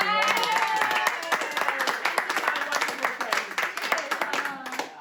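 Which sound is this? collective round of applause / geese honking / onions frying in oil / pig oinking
collective round of applause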